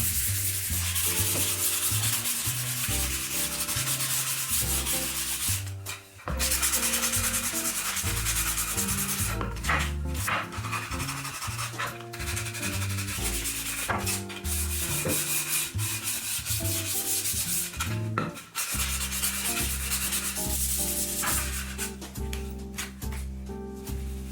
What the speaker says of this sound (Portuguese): tem que lixar, tá? Ó, sempre no sentido do veio da madeira. Lixa bem, põe um pouco de força.